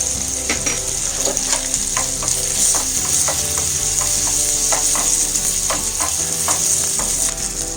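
Semiya and raisins frying in ghee for payasam, a loud close sizzle broken by frequent clicking scrapes of a spoon stirring against the pan, with no speech.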